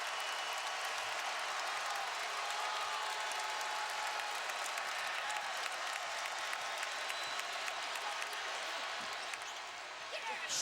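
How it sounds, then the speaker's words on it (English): A packed Kentucky basketball arena roars and applauds during a game against Tennessee, a dense, sustained wall of cheering and clapping that barely wavers, with a commentator's voice running underneath. "The crowd loves it. They're standing up."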